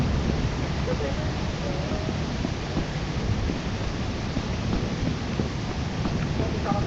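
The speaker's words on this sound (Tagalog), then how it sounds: "Ay, thunderstorm." Dense, steady roar of heavy rain with rumbling thunder underneath in the video game Lethal Company, continuous and loud throughout.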